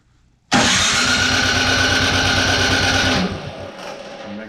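A Troy-Bilt Storm snowblower engine catches abruptly and roars into a loud, steady close-up idle, then drops to a quieter, lower running note for the last second, with no talk.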